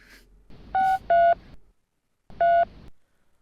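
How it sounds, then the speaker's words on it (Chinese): Telephone dialing tones sound in short separate beeps, two quick tones and then a third after a pause, clear and close in an otherwise quiet room. "等我打电话。"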